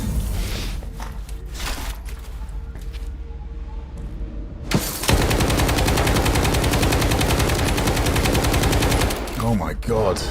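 A PKM machine gun fires in STALKER 2. After a quieter stretch, a long, loud, sustained automatic burst rattles for about five seconds before cutting off.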